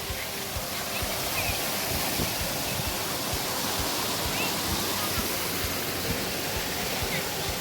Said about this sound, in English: Here we are at the Lazy River.